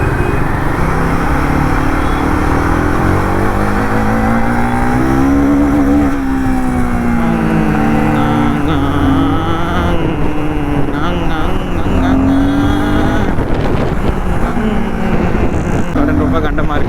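A Royal Enfield Guerrilla 450 motorcycle revs hard toward the top of its range in city traffic; the loud, close engine note climbs, dips and climbs again repeatedly over the full stretch.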